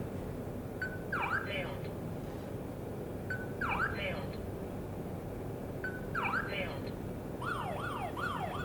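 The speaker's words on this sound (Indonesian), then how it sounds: "ini alarm sudah berbunyi" A Fujiyama SDL925T smart door lock alarm sounds after repeated failed fingerprint attempts: electronic chirps in short sweeping bursts, roughly every two and a half seconds, over a steady background hum.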